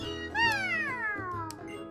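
A cat meows in the video game Pokémon Sun, one clear drawn-out descending meow up close, followed by a softer second cry.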